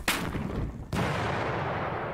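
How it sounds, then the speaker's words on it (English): Light mortar fire in the wargame Panzer Battles Normandy: two loud, sharp blasts about a second apart, each followed by a long rumbling decay, with no voices. "These light mortars will try and get a lucky shot there."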